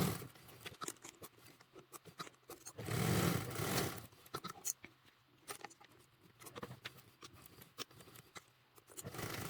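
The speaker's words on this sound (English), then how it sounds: "I almost tried to sew through the folded edge" A sewing machine stitches through duffle bag fabric in short, irregular bursts of rapid mechanical chatter, close up and fairly quiet, separated by pauses with light handling noises.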